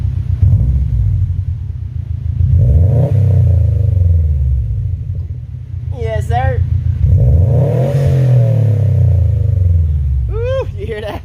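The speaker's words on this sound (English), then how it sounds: "She sounds sick." A 2018 Subaru WRX STI with an Invidia R400 exhaust, Cobb SF intake and Cobb Accessport tune revs in a deep, loud rumble, rising and falling in two long sweeps, with short whoops and a voice in between.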